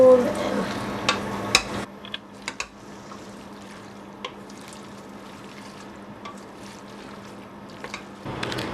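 Spinach and pasta are stirred in a pan over a small flame, giving scattered soft scrapes and clicks of a utensil over a low steady hum, with quiet sizzle and occasional clatter at the start and end.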